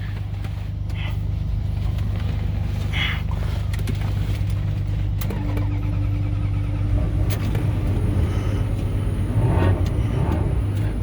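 A Ferrari bought at auction is started with the key and settles into a loud, steady engine idle with a deep continuous rumble and faint mechanical clatter, close by and with no talk.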